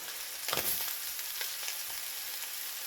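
Tomatoes and chilies sizzle in a pot of beef stew, with a soft scrape of stirring early on, then a quiet, steady frying hiss.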